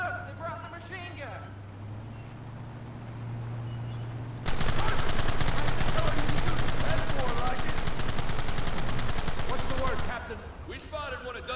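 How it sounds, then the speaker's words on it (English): Sustained machine gun fire in the video game Red Dead Redemption 2, a loud rapid stream of shots lasting several seconds, with voices talking before and after the burst. "Look, they brought the machine gun!"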